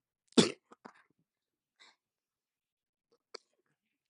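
One harsh, raspy cough stands out, followed by a few faint breaths and small throat sounds in near silence.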